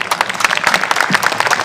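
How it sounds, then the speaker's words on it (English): A press-conference audience applauding at a Star Trek convention in Birmingham, dense steady clapping from a crowd filling the short stretch without pause. "Please give a round of applause."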